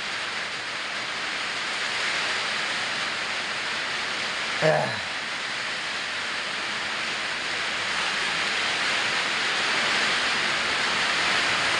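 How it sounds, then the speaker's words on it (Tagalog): Heavy rain from Typhoon Carina pours in a dense, steady roar that fills the whole stretch, broken only by a short vocal exclamation midway. "Lakas pa rin ang ulan."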